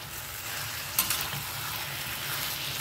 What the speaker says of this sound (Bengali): এটাকে কিন্তু এখন ভালো করে কষিয়ে নিতে হবে মশলার সাথে